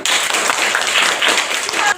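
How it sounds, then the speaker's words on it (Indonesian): Classroom students clap together in a brief, busy burst that stays loud and dense for about two seconds, with voices mixed in. "Tepuk tangan dulu."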